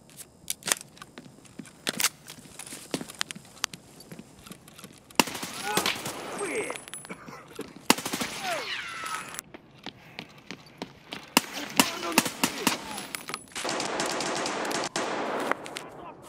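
Video game gunfire in a survival shooter, a solo player against squads: scattered single shots and bursts of automatic fire, some near and sharp, others fainter, with a voice speaking in between.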